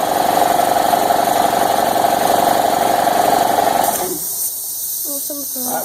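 An air compressor in a shop runs loud with a steady mechanical hum for several seconds, then its tone drops and changes, and a voice talks briefly over the quieter remainder.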